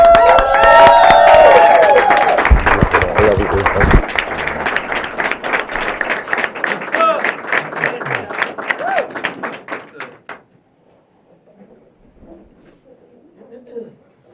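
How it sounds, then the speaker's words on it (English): A crowd breaks into loud applause with scattered cheers, many hands clapping steadily for several seconds before it tapers off and fades into quiet. "Give him a round of applause."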